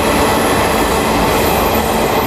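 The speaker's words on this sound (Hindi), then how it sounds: "अभी चालीसगांव रेलवे स्टेशन को स्किप करने वाली है ट्रेन" Garib Rath Express train rushing through Chalisgaon railway station, a loud, steady roar of wheels and carriages with faint rail squeal, constant and close throughout.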